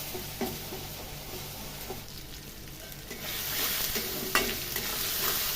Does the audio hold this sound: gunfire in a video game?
no